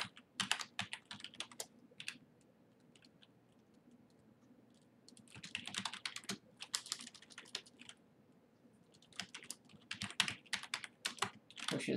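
Bursts of rapid typing on a computer keyboard, close and crisp, in three clusters separated by brief quieter pauses, with scattered individual key clicks and no talking.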